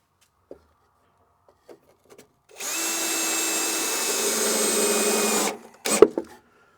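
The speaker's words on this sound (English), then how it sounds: "just add screws from the inside to the studs and remove the temporary scrap" A power drill drives screws into wall studs in a storage building, one close whirring run of about three seconds followed by a brief second burst, with quiet handling sounds around it.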